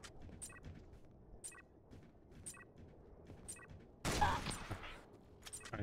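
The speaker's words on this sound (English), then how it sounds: "I shoot him." Video game gunfire: a loud burst of shots around the four-second mark, over a quiet background of repeating faint electronic beeps, with no one speaking.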